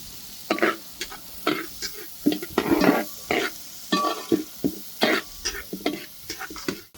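Vegetables, including finely chopped green chillies and capsicum, sizzle and hiss in a hot pan for veg ball Manchurian, stirred in repeated bursts of scraping and tossing.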